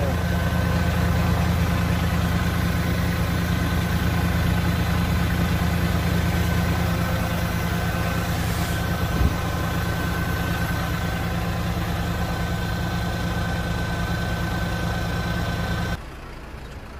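A Kubota 135 hp tractor engine idles steadily up close with a deep, even rumble and a faint whine above it, then drops a little quieter near the end; the tractor has a faulty external hydraulic system.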